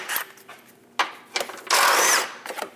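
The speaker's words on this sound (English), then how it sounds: "Using a 15mm socket, remove the 2 bolts for the front air dam" A power tool with a 15mm socket removes bolts from the front air dam of a Chevrolet Express 2500 van, giving short close bursts of whirring and rattling with one longer spin, among clicks and handling noise.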